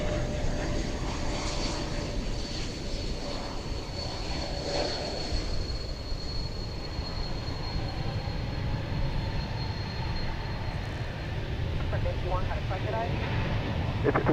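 A jet airliner takes off from a runway at DFW Airport, its engines a steady, broad roar from a distance throughout, with radio voices talking over it.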